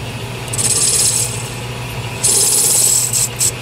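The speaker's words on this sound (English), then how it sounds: "Let me go ahead and center drill this part." A part being center drilled on a metal lathe, giving bursts of rasping, high-pitched cutting and rubbing over a steady low machine hum, with two distinct cutting passes close by and no talking.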